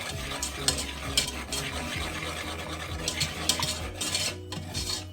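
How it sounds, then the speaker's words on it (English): A whisk stirs dry ingredients for a chocolate pie in a bowl, a busy run of scraping, rattling strokes against the bowl with clinks, close and fairly quiet, no talk. "We're going to whisk this together to make sure that everything is evenly distributed"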